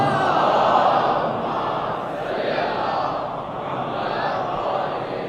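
Many voices at a religious majlis gathering chant blessings on Muhammad together in unison, forming a loud, sustained, dense wall of crowd sound that barely dips across the stretch.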